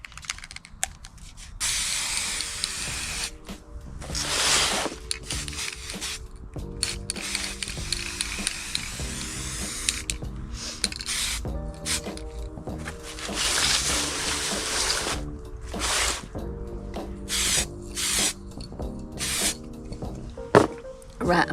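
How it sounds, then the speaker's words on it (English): A spray can sprays primer paint onto a part of a 1997 Honda Rebel 250cc chopper build, coming in repeated loud hissing bursts of varying length separated by short pauses and quiet handling noises. "give this a bit of a primer spray"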